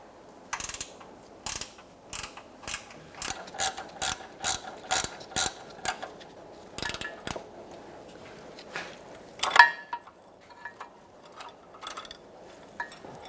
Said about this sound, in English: I'm going to use a ratchet wrench to make it easier.